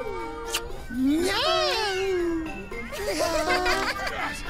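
Several cartoon cats meow in drawn-out, wavering cries, some rising and falling, close by, with a bit of laughter mixed in.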